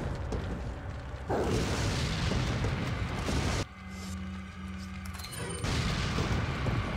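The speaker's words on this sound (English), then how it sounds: "let's try to use some more grenades here" Grenade blasts in the survival-horror game Resident Evil 4: loud, heavy booming bursts, the first lasting several seconds, then a brief quieter lull before another rumbling explosion rolls in.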